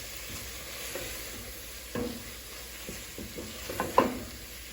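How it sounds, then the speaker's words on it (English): Spices and tomatoes are stirred together in a pan while cooking for a potato and tomato curry. A quiet sizzle runs under scraping spoon strokes, with a few louder scrapes near the end. "We can mix the spices together."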